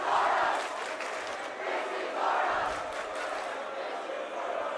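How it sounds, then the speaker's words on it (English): A high-school basketball student section from St. Francis yelling a rhythmic chant in a gym, a sustained roar of many voices rising and falling in waves, fairly distant and steady. "St. Francis yelling out, "This is our house.""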